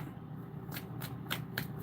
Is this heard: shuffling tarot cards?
yes